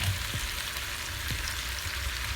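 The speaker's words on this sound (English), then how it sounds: "You got everything just simmering with this steak." Steady sizzle of a T-bone steak cooking in a pan with onions and peppers, a constant close hiss with a few soft taps, no talking.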